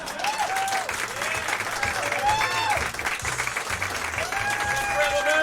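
Audience applause at a student stand-up comedy showcase, a continuous spread of clapping with cheers and voices mixed in over a low background hum.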